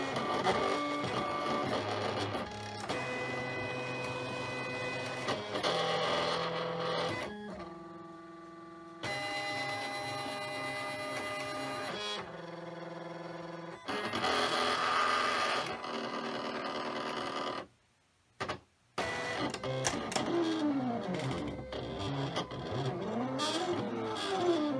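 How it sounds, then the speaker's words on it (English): A Silhouette Cameo cutting machine reads registration marks and cuts printed Shrinky Dink plastic. Whirring motor tones shift in pitch as the carriage moves, broken by brief pauses, then sweeping, rising and falling servo whines, all close and clear. "When I hit send, it's going to go and read the registration marks and make some funny noises. And then it'll cut this out."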